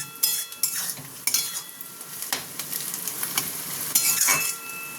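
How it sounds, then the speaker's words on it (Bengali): Vegetable filling for bread chops frying in a pan, with a steady sizzle under repeated scraping and clinking of a spatula against the metal, close by. "এটা একটু ভেজে নিই।"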